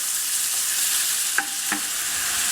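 Tinned apple stirred in a pan for an apple and rhubarb crumble, a soft steady sizzle with a couple of brief scraping strokes from a utensil, close and with no talking.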